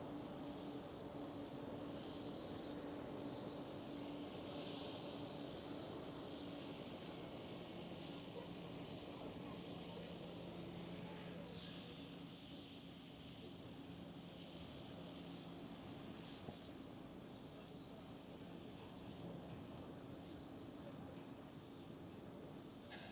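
A TUI Boeing 787 airliner at Schiphol Airport, a continuous distant engine roar that holds steady and fades slightly over time, with no talk.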